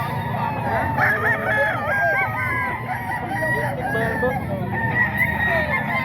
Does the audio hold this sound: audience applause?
no